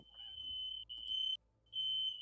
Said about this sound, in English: That is a fire alarm.